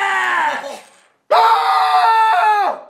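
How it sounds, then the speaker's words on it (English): A loud, sustained scream comes in two long bursts split by a short silence, the second rising sharply, strained and wavering before it tails off. "did you just hear Jeffy scream?"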